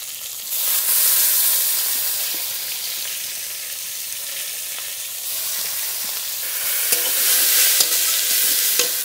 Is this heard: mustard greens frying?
yes